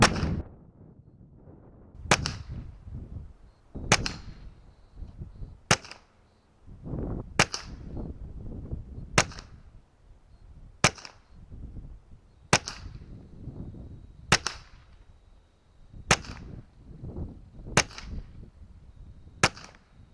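Twelve suppressed .22LR rounds from a TX22 competition pistol fire at an even pace of roughly one every two seconds, each sharp crack followed by a faint ring of 3-inch steel at 20 yards.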